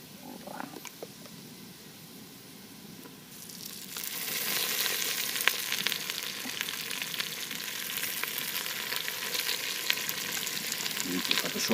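Potatoes with meat frying in a pan outdoors by a riverbank, starting as a soft crackle and swelling into a loud, steady sizzle with occasional pops as cooking continues.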